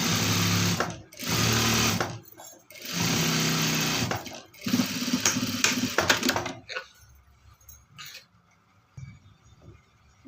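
A sewing machine stitches the edge of a chudidar in bursts of fast mechanical whirring, several runs separated by short pauses, close and loud, then fading to quiet handling noises.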